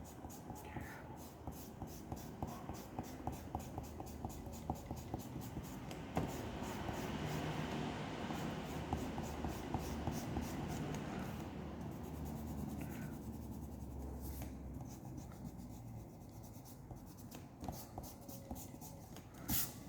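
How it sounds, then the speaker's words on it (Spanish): Pencil lines are erased from a manga drawing in steady, rapid rubbing strokes, a continuous close scratchy friction that runs throughout at a soft level. "voy a empezar a borrar aquí el lápiz porque el dibujo debe quedarnos totalmente limpio"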